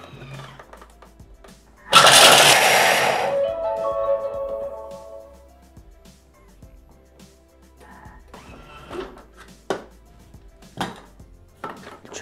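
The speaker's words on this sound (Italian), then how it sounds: "il cioccolato al latte, lo mettiamo all'interno del boccale e lo facciamo tritare per 5 secondi a velocità 7" A Thermomix TM6 chops milk chocolate in its bowl at speed 7 for five seconds, giving a sudden loud, gritty whirring burst that fades into spinning down, followed by scattered light clicks and bowl knocks.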